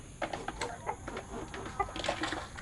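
Four-month-old Elba chickens, one rooster and four hens, clucking softly in a coop, several short close clucks over a quiet background.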